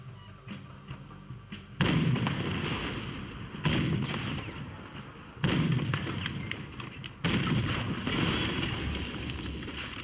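Cannon blasts and gunfire in the video game Red Dead Redemption 2, four heavy booming shots at roughly two-second intervals, each with a long rumbling tail over background crackle.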